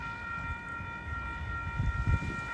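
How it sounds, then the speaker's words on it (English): Amtrak 732, a Capitol Corridor passenger train bound for Sacramento with a Charger locomotive at the rear, approaches at Eckley Pier near Crockett, California. A faint, distant low rumble swells toward the end beneath steady sustained tones. "this is Amtrak 732 Capital Corridor train to Sacramento. With a cement charger in the back."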